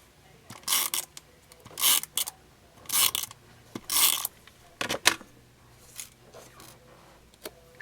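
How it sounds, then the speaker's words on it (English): Adhesive tape being pulled and applied to a paper doily while making a card, with repeated short rasping tears and rubs in separate bursts and a few light taps in between. "And we're going to actually tape the doily."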